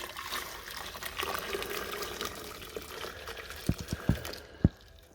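Hot water poured for a wash during gold recovery from computer scrap, a steady liquid splash and trickle running throughout, ending in a few sharp clinks of glassware.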